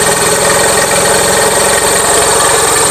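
An Onan engine on a Gravely 450 idles loud and close with a steady, pulsing low-end throb and a suspected head gasket fault, running continuously without talk.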